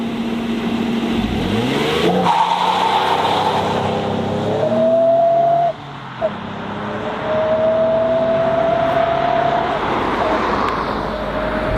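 Ford Mondeo ST220 accelerating hard from standstill on a wet road, engine revving up through gears with a rising whine, brief dips at shifts, heard from inside the car with tyre and road noise.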